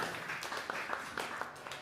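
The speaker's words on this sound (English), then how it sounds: "Give yourselves a round of applause for coming in." A concert audience gives a round of applause in a faint, distant patter of many hands clapping, with a few sharper claps standing out from the steady wash.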